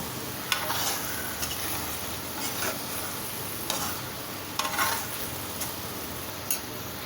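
Bottle gourd Manchurian balls being mixed in a pan, with a constant frying sizzle and periodic sharp scrapes and clinks of the spoon against the metal.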